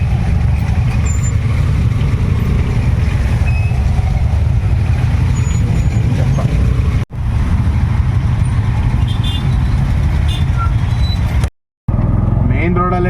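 Steady road traffic rumble around an auto rickshaw edging through a jammed city street, continuous engine drone and passing vehicles with brief dropouts, a voice talking over it.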